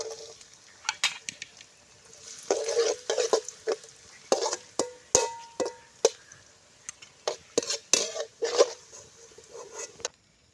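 Cashews and raisins fry in ghee in a pan as a spoon stirs them, making a quick series of close scraping clicks and light sizzling bursts over a quiet background, with no talking.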